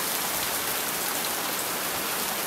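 Rain pours steadily onto a porch, a dense, close, unbroken patter with no voices.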